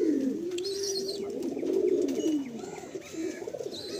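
A Madrasi pigeon coos softly in a bird market in Kolkata, with a few rolling low calls rising and falling, fairly faint with light chirps in the background.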